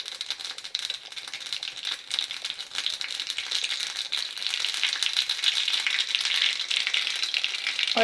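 Half a teaspoon of mustard seeds crackle and sizzle steadily in two teaspoons of hot oil, a dense, bright popping hiss that grows slightly louder and continues without any talking.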